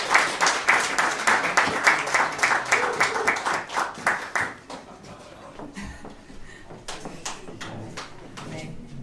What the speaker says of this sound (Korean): 큰 박수로 예,